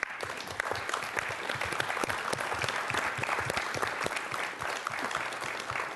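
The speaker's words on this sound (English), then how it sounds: "Why don't you stand up so we can all clap for you?" Steady applause from a city council meeting audience clapping for a scout troop, an even, continuous patter of many hands throughout, fairly distant and moderate in level, without talk.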